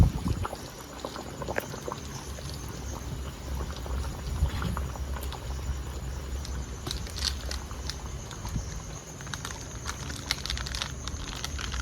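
Potatoes boil in a pot for a thin village-style fish curry, giving a steady, moderately loud bubbling and simmering that runs alone for about twelve seconds with no talk.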